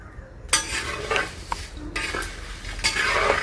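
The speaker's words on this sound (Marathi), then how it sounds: "हे जिऱ्याला जाम वेळ जातो जास्त भाजायला लागतं" Cumin seeds are stirred and roasted in a pan for homemade spice masala, with a utensil scraping and clinking against the metal in short strokes over a faint sizzle.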